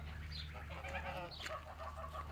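Chickens clucking softly and steadily over a low constant hum, with no one talking.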